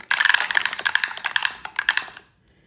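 Several colored dice tumble and clatter together on a hard surface in a rapid run of bright clicks for about two seconds, then fall silent.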